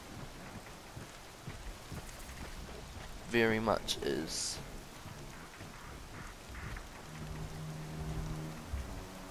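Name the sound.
heavy rain in a video game, Horizon Zero Dawn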